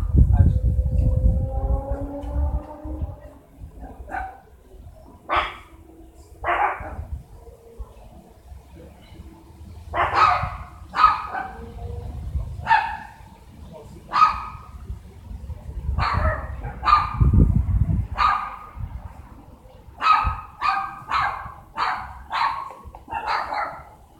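Dogs barking in repeated sharp bursts, some single and some in quick clusters, at moderate distance over low background rumble, with a voice heard early on.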